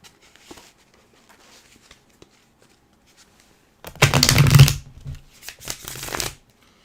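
Tarot cards being shuffled by hand in two loud riffling bursts after a quiet stretch of faint handling noises.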